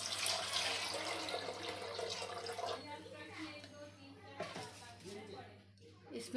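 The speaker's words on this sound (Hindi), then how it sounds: "और इसमें डालूंगी मैं एक जग पानी।" A jug of water is poured into a pressure cooker holding white chickpeas, a loud splashing rush that tapers off, with someone speaking over it.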